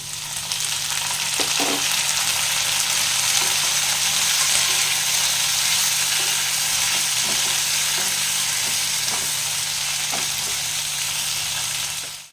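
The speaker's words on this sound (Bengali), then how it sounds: "এখানে যেটা আমি কেটে রেখেছিলাম টমেটোটা সেটা আমি দিয়ে দিচ্ছি" Chopped tomato frying in a pan for paneer masala, a loud continuous sizzle up close with faint occasional stirring, no talk.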